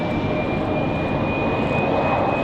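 An Alaska Airlines jet departing for San Diego from Raleigh-Durham gives a loud, steady roar of engine thrust with a sustained high whine, heard alone and close.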